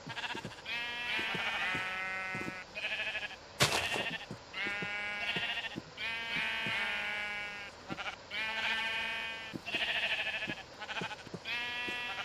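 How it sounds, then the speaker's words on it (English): Sheep in Minecraft, FTB Skies 2 modpack, bleating over and over in a regular rhythm, several overlapping game bleats close and loud with one brief sharp click midway. "it should still spawn in more sheeps"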